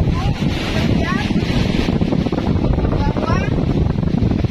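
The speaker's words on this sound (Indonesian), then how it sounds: "kita bisa melihat pecahnya ombak yang tidak lurus seperti ini" Ocean waves break unevenly along the shore in a continuous roaring wash, heavy with wind buffeting the microphone, while a voice talks over it.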